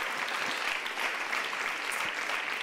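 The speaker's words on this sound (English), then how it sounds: "A warm round of applause" Warm audience applause at a European mobility award ceremony, a steady, even wash of many hands clapping at moderate distance with no speech over it.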